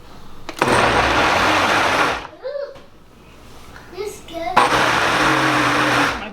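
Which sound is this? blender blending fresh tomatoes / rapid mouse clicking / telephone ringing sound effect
blender blending fresh tomatoes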